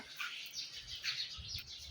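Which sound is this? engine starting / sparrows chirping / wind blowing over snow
sparrows chirping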